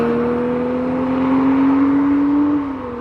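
BMW M440i xDrive coupe, a 2025 model, driving with a steady, close engine drone that rises slightly in pitch, then eases off near the end, with no talking.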